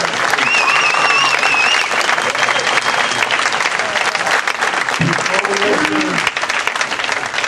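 A church audience gives a sustained round of loud, dense applause after a play scene, with a few voices calling and speaking over it midway.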